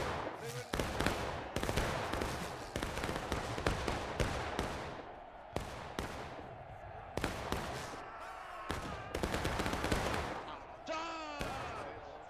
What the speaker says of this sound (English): Here comes the shots.